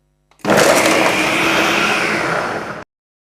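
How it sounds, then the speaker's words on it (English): A blender blending a fruit, berry and yogurt smoothie whirs loudly and steadily for about two and a half seconds, a dense grinding roar that starts abruptly and cuts off sharply. "put them in the blender"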